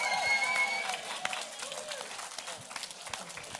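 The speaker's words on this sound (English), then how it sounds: "cheer and clap for Jack" A church or youth audience cheers and claps for Jack of the Philadelphia Flyers in a crowd vote, a loud burst of mixed clapping and shouts that gradually thins out, with some voices in the crowd.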